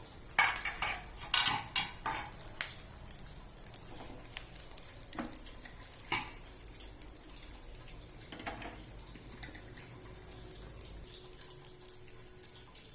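Crumbled egg fries quietly in hot oil as it is stirred, with a soft sizzle under scattered scrapes and clinks of a utensil against the pan.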